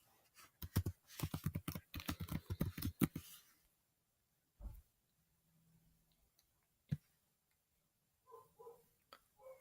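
Rapid typing on a computer keyboard during a quick walk-through of setting up Facebook ads, with a dense burst of keystrokes up front, then sparse single clicks and a few faint soft tones in a quiet room.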